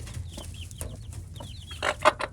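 Backyard chickens cluck close by, a hen with new chicks among the flock, with a string of thin chick peeps and a few louder hen clucks near the end, no voices.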